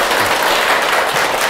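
Lecture audience applauding at a clinical psychology special lecture, a dense steady clapping that fills the whole moment, loud and close with no voices over it.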